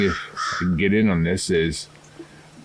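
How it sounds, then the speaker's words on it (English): Crows caw in the background over a lake on a quiet early morning, and a voice talks over the calls. "Occasionally you hear the crows in the background."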